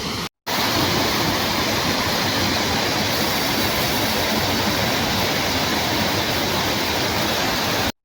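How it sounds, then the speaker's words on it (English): A waterfall near Rugeley on Cannock Chase sends a loud, steady rush of falling water close by, continuous and unbroken with no voices. "Rumours are true about the waterfall. Look at this"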